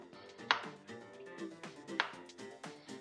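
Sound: knife chopping garlic and ginger into small pieces

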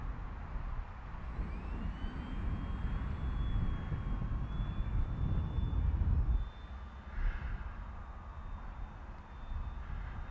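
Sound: Phoenix S RTF RC plane flying on its maiden flight

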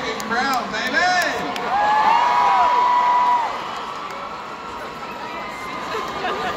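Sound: crowd at hometown holiday event

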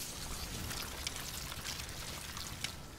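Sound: pouring water on a fire, A Plague Tale: Innocence video game

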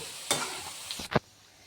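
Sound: chicken pieces frying in oil until golden brown

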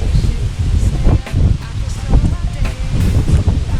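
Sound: strong wind blowing against tent at campsite

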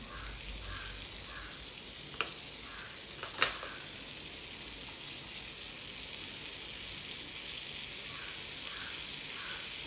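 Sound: butter melting and sizzling in a pan for chole tadka

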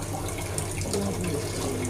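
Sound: water poured into gram flour (besan)

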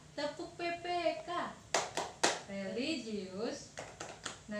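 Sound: class doing the Tepuk PPK clapping routine

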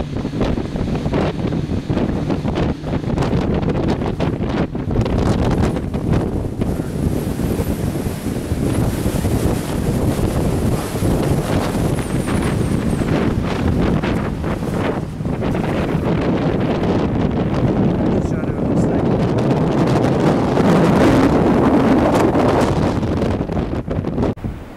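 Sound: strong wind blowing across microphone at wind farm

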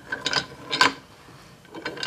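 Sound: unscrewing nut on hydraulic floor jack

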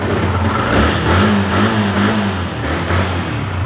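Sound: motorcycle engine running smoothly

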